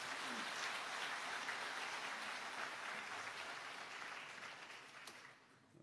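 Elders at a national church retreat are met with a sustained wash of audience applause, dense and even like steady rain, holding for several seconds before tapering off near the end.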